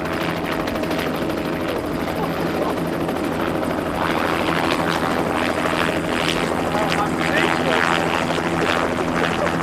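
Helicopter rotor and turbine noise throughout, loud and steady with thudding blade rhythm, swelling slightly as it lifts off for takeoff.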